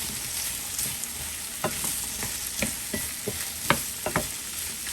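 Carrots fry with ginger in a pan for a chicken stir fry, giving a steady, even sizzle with occasional light clinks and scrapes of a utensil, heard close and without any talking.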